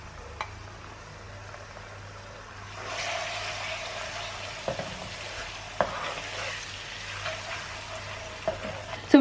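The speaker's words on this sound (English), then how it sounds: "just give this a stir, and I'm going to cook this for about 2 minutes" Tomato sauce cooking in a pan, stirred as it bubbles, with a low steady sizzle that grows louder partway through and small scraping clicks of the spoon.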